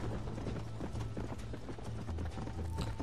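A horse gallops in Red Dead Redemption, fast repeated clip-clop hoofbeats close and loud against a low rumbling game backdrop.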